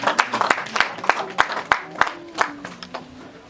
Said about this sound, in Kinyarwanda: Bose bakomera amashyi.